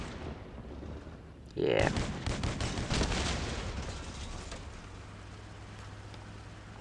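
Shotgun turrets firing in a vehicle-building game, only two mounted and unable to rotate: a loud burst of rapid, overlapping blasts rings out, then tails off into steady rumbling, with a brief spoken word.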